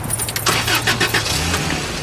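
A car with a valve problem turns over and catches, a short loud cranking burst settling into a rough running engine, heard close with no talk.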